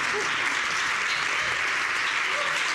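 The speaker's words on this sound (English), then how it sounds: "You could applaud if you like" Steady applause from an audience, dense and even clapping filling the whole stretch with no voices on top.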